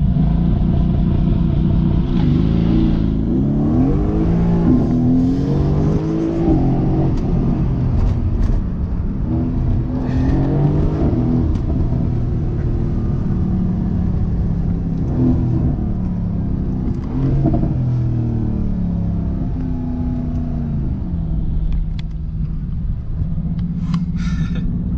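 A Mercedes-AMG GT S accelerates hard from a launch-control start, its engine roaring loud and close with rising revs and gear-change dips, growling on steadily with no talk.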